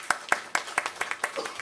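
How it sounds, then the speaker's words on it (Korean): Worship congregation clapping in a steady rhythmic beat, about seven sharp claps spaced evenly, moderately close in a church service. "하나님 영광의 박수, 격려의 박수."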